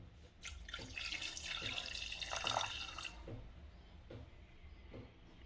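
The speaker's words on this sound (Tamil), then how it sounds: "நல்லா தண்ணி ஊற்றிக்கலாம் மட்டன் பார்த்திங்கன்னா ஒரு முக்கால் இது மூழ்கிற அளவுக்கு தண்ணி ஊற்றிக்கலாம்" Water pours into a pot of mutton, a steady splashing rush for about three seconds that trails off into faint drips and clinks of the pot, with no talking.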